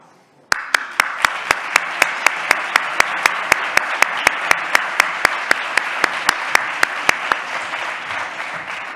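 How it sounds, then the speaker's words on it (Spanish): A crowd applauds at a formal Madrid economists' association ceremony honouring members for 25 and 50 years, a sudden start of dense, steady clapping that fills the room, with a few sharp louder claps standing out. "antes de empezar a hablar me están aplaudiendo"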